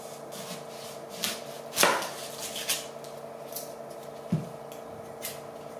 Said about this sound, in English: so I better chop an onion